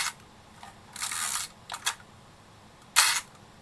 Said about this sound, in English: The mirror only drops down when I advance the shutter.